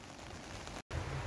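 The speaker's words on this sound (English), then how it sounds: "you can most probably hear the rain on the shed" Steady rain drumming on a garden shed roof at an allotment plot, a dense continuous patter close overhead with a brief dropout.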